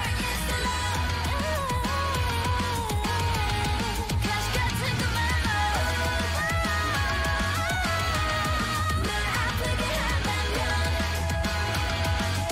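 A K-pop song plays loud and continuous with full instrumentation, a steady heavy beat and sung melody, and no talking over it.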